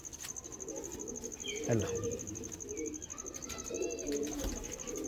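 Indian white pigeons cooing close by in soft throaty rolls, over a steady high insect trill, while someone talks briefly in between.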